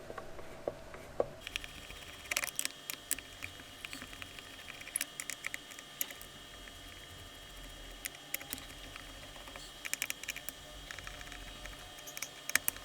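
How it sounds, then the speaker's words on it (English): Small screws are taken out one after another, giving quiet, scattered clicks and ticks of a tool in a hushed setting with no talking. "Take these screws out."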